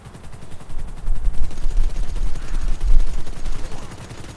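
Gunfire in the video game GTA V Online, rapid bursts of shots rising and falling in loudness, with heavy low thuds and crackling reports piling up over a few seconds.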